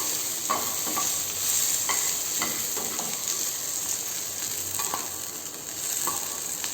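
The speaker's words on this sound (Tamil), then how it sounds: "வெங்காயம் நல்லா வதங்கி வந்துடுச்சு." Onions sautéing in a pan with tamarind and cumin for an onion chutney, a steady close sizzle broken by a series of scraping stirs, with no voices.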